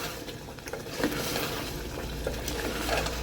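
Shalgam gosht, a turnip and mutton curry with oil risen to the top, being stirred in a pan, soft sizzling under a spoon scraping and patting through the thick masala in quick irregular strokes.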